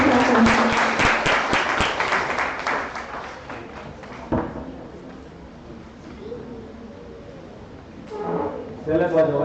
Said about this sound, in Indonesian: marilah sama-sama kita sambut kehadiran beliau dengan tepuk tangan yang meriah